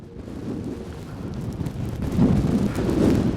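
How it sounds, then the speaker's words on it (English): Strong, gusting wind battering the microphone during a mountain climb, a steady low roar that swells louder in the second half, with no voices. "This wind is brutal."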